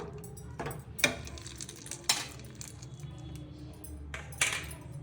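Fried dry fruits are mixed into carrot halwa in a pan on a switched-off stove, a few sharp spoon clinks against the metal over soft scraping, close and sparse.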